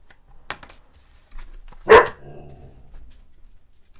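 A dog indoors gives a single sharp, loud bark near the middle, set off by a door, with a few fainter thumps and yelps around it in an otherwise quiet room.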